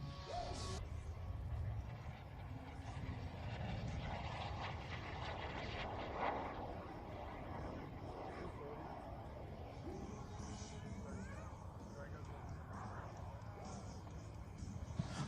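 An FLS Microjet jet aircraft makes a pass down the show line at an air show, its jet whine rising and sweeping by at a distance while an announcer talks over the steady crowd-field ambience.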